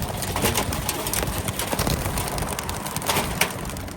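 Racing pigeons on their first toss burst into flight with a flurry of wing flaps and soft cooing, close and busy over an outdoor background.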